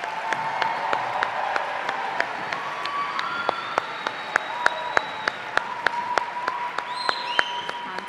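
Sustained audience applause fills a school band concert hall, a dense wash of clapping with a few sharper nearby claps standing out, steady throughout with no speech.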